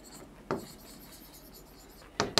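A pen or marker writes out a chemistry equation for a lesson, heard as two brief, faint scratchy strokes with quiet gaps between them.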